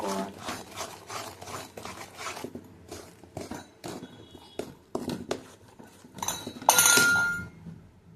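A spoon stirs tomato paste into chili powder in a bowl, giving repeated scraping strokes and light clinks against the dish, with a brief louder rattle near the end.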